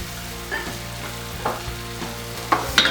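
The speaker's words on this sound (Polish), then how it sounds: "teraz sobie to delikatnie podsmażam" Vegetables fry in butter in a pan, giving a steady close sizzle broken by a few louder stirring scrapes and clinks of a utensil against the pan, with no talking.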